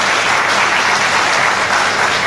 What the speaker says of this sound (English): Give him a fantastic round of applause.